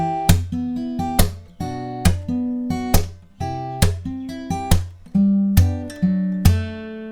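Acoustic guitar chords, each bass note followed by a sharp percussive slap on the strings, repeating in a steady strumming rhythm, close and clear with no voices.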